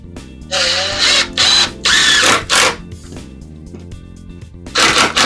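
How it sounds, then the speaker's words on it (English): A power drill pre-drilling a wooden baseboard whirs in four short bursts close by, pausing briefly between each, then one more burst after a quiet gap. "we'll pre-drill these."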